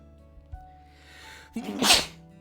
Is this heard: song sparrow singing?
no